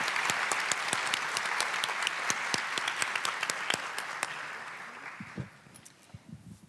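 Audience applause at a conference, a crowd clapping steadily with crisp individual claps standing out, then thinning to scattered claps and fading over the last couple of seconds.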